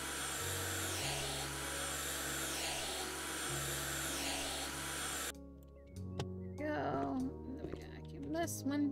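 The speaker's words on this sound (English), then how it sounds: "Vacuum the windows." A steady whirring vacuum cleaner runs in the House Flipper video game while cleaning windows, droning loudly for several seconds, then cutting out as a voice talks near the end.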